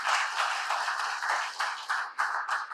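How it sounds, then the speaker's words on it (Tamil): Brief burst of audience clapping for a person at a talk, rapid and fairly close, with a rhythmic pulse to the claps. "பெரிய கைத்தட்டு அவருக்கு."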